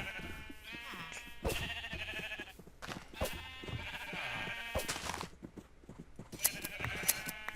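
Sheep in Minecraft bleat repeatedly in wavering calls, layered with game sounds and occasional clicks.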